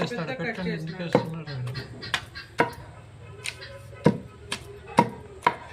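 Onions are pounded in a stone mortar, with sharp, separate thuds landing about once a second while people talk in the background.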